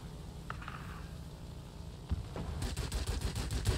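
Machine guns on a P-38L aircraft fire in a flight video game, opening with a few scattered shots and then breaking into a rapid, loud, sustained burst of gunfire at close range.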